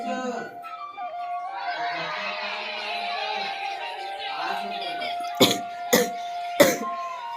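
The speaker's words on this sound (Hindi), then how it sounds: "खांसी मन मारे नहीं है अभी भी" A child coughs three times in sharp, separate bursts near the end, following several seconds of quiet voices and background chatter in a home.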